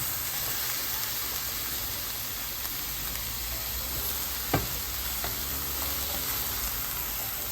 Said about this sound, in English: Let's just keep stirring that up